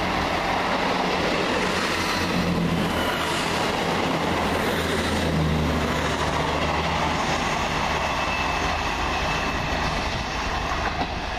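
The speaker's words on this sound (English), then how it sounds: "That's the Norwich Liverpool Lime Street train." A passenger train rumbles past at Hazel Grove station steadily and fairly close, with a broad continuous roar of wheels and rails that swells slightly midway and holds to the end.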